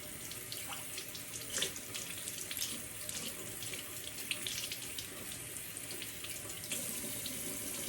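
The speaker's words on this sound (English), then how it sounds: "I'm gonna wet my exfoliator" Water running from a bathroom tap onto a facial exfoliator, a steady close splashing stream with small irregular spatters, quiet and continuous with no talking.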